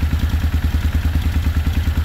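A Suzuki Intruder motorcycle engine idles close by with a steady, lumpy chug, carburetors out of sync, rhythmic pulses repeating evenly throughout.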